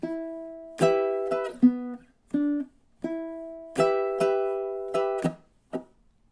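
Minor blues riff on ukulele covering measures 7 and 8, plucked notes and short chord strums in an uneven rhythm with brief gaps, close and clear with no talking.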